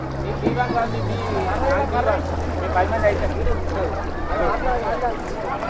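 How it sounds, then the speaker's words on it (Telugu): A 100cc boat engine drones at a low steady pitch, its tone dropping slightly early on, while people talk loudly over it, at the Saraswati Pushkaralu festival in Kaleswaram. "ఇక బోట్ యొక్క ఇంజన్ హండ్రెడ్ సీసీ"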